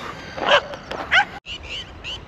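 Desi dogs bark and yip in short bursts, several high, whiny barks spaced irregularly, sounding somewhat distant against a quiet background.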